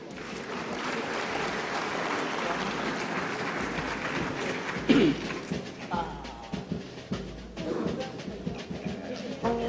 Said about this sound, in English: A warm round of applause, please.